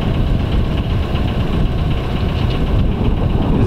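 Motor boat engine in a Maine harbor drones low and loud as the boat maneuvers among moorings, a steady close rumble with no talking.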